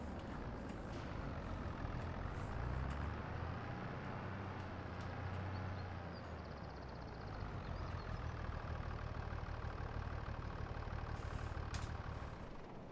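A tractor engine idles in Farming Simulator 25, a steady low diesel rumble that holds for the whole stretch. Faint mechanical clicks and hisses sit on top of it, and no one speaks.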